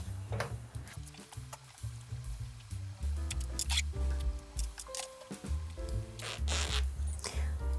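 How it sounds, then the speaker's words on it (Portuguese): A zipper being handled and pulled while sewing a fabric pouch, with repeated short zipping strokes and small rustling clicks, close and clear with no talking. "Então a gente vai passar esse zíper agora rapidinho."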